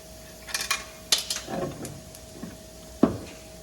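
A few sharp metallic clicks and ratcheting knocks from a wrench loosening the strut top nut on a Mustang GT, scattered and close over a faint steady hum, with no talk.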